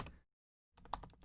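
Keystrokes on a computer keyboard while writing a JavaScript file in VS Code: a short burst of clicks, a silent gap, then a quicker run of close, fairly quiet taps.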